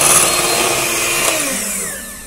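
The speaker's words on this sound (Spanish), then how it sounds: "ahora sí le damos una ligera pasadita con la batidora" A small electric hand mixer whirs steadily at close range mixing cupcake batter, its motor pitch sliding downward near the end as it winds down.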